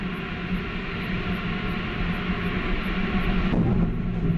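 Ariane 5 rocket launch with the Vulcain engine igniting, a steady broad roar that holds throughout and thickens slightly past the midpoint, with faint regular beeps above and no voices.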